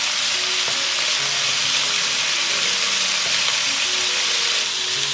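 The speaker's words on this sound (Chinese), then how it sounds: "先干煎一下排骨，一块块摊开来干煎一会儿" Pork ribs dry-frying in a pan, spread out piece by piece, give a loud, steady sizzle and crackle that runs throughout with no talking over it.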